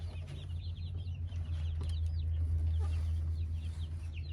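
Backyard hens cluck softly at the nesting boxes in a coop, a close cluster of quick, murmuring calls over a steady low hum.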